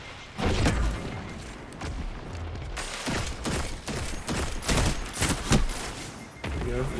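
A grenade blast in the shooter game Destiny 2, set among rapid gunfire and impact thuds that repeat loudly for several seconds, with a voice talking over the action.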